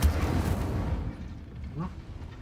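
Incendio fire spell in Hogwarts Legacy, a roaring whoosh of flame that starts loud and close and gradually thins out over a couple of seconds.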